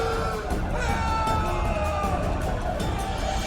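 An angry rioting crowd in The Witcher 2: Assassins of Kings, a dense continuous roar of shouting voices and agitated babble, loud and close with no pauses.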